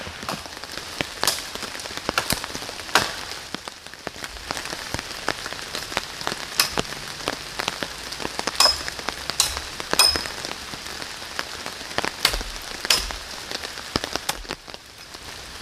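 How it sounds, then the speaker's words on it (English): Heavy rain drumming steadily on a tarp outdoors, dense continuous patter with louder individual drops striking close by, no voices. "the rain's really coming down"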